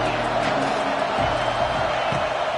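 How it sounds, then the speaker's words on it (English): A college football stadium crowd roars as a steady, dense wash of noise, loud and continuous with faint thuds, with no clear single voice standing out. "This crowd bringing the energy and noise early."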